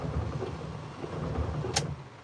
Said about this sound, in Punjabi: ਹੁਣ ਵੀ ਜਿਹੜਾ ਰੋਕ ਰੋਕ ਕੇ ਮੀਂਹ ਪੈ ਰਿਹਾ ਕਾਫੀ ਮੀਂਹ ਪੈ ਰਿਹਾ